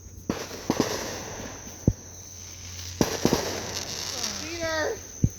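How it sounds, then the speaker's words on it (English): Fireworks going off outdoors at a home firework show, a series of sharp bangs and crackles spread through the clip, some near and loud, with a whistling rise near the end and voices talking over them. "We got Fireworks going off behind us."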